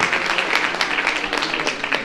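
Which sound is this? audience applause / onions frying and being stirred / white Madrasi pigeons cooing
audience applause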